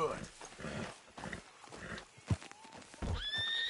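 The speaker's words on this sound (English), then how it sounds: "Damn horse, acting up on me," A horse whinnies and snorts in a Red Dead Redemption 2 race, with hoof sounds and other game audio under a voice speaking throughout.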